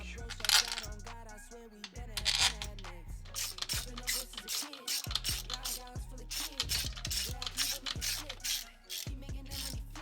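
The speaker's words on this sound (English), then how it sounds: "So now we can finally tighten down the manifold. Two 10mm bolts." A ratchet tightens 10mm intake manifold bolts on a 200,000-mile Audi A6 C7 3.0 TFSI, giving rapid bursts of close, crisp clicking with short pauses between strokes and no talking.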